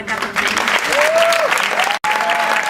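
Audience applause at a poetry recital, a dense steady roar of clapping from a sizeable crowd filling the room, with a brief voice rising through it and a momentary dropout near the end.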